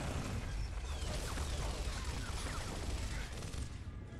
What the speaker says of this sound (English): It looks like he's shooting the sky.